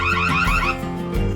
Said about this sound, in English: the device will emit a siren sound